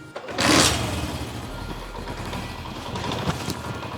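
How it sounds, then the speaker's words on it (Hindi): Honda CD 70 motorcycle idling to warm up, a low steady engine putter running continuously after a brief louder burst at the start, close by with no talk. "तो चलिए पहले बाइक को गर्म करते हैं"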